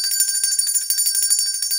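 A small metal hand bell rung during meditation to clear energy, its bright sustained chiming tone continuous and close, with repeated ringing strikes and no talking.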